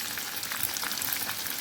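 Kachnar buds frying in hot oil, a dense steady sizzle with crackling pops, close and continuous, no voices.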